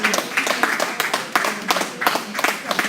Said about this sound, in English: Give the JT a big round of applause